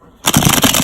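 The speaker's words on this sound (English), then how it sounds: "That's my baby's little rocking chair." A loud, close rhythmic creaking and crunching of a baby's rocking chair starts abruptly after a brief quiet moment and continues steadily.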